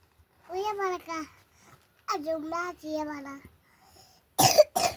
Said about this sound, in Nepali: खोकी चलेछ